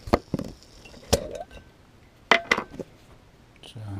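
A jar of delicatessen-style jalapeno slices being opened: a run of sharp glassy clinks, knocks and lid clicks up close, spread irregularly over a few seconds.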